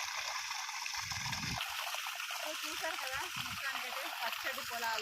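Stream water rushes in a constant broad wash, with people talking over the steady flow.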